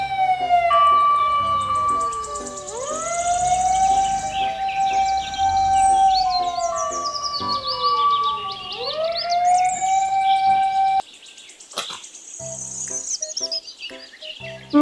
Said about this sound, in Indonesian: Mobil truk pemadam kebakaran.